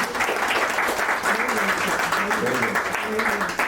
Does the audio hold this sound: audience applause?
yes